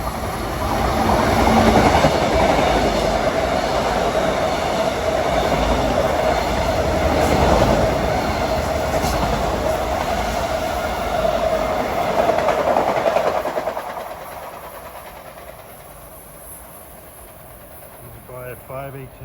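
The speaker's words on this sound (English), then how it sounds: "Approaching now on track number 4 at 5:19 is train 762 from New York to Hempstead, complete with M9s." An M9 commuter train, train 762 from New York to Hempstead, rumbles loudly and steadily through Forest Hills station at rush hour, its wheels clattering before the sound fades and a faint squeal rises at the end.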